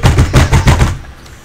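A video game gun fires a rapid burst of about five loud, punchy shots in an even rhythm, then cuts off into a quiet tail.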